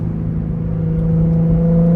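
A car engine revs steadily while an open differential lets one wheel spin, giving a loud, sustained droning whir that climbs slightly in pitch, heard up close.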